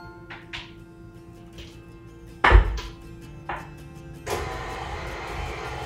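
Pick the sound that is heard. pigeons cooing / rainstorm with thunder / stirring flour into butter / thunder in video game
stirring flour into butter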